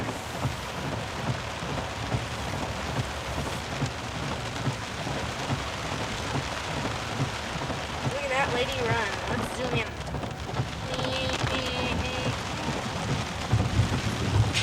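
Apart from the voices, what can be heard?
thunderstorm with rain and thunder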